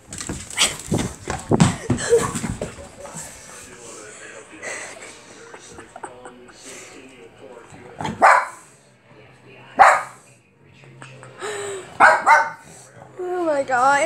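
An adult dog barks in sharp, separate bursts at a puppy indoors, with yips and whimpers between them, while people talk and exclaim nearby.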